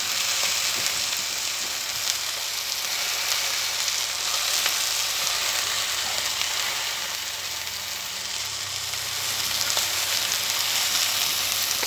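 Steak for a medium finish fries in a pan, giving a continuous, fairly loud, crackling sizzle with occasional pops throughout, and no one talks.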